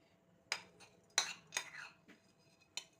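A spoon clinks and scrapes against a cooking pot in a few sharp, separate strikes spread over a few seconds, close and fairly quiet, with no talk.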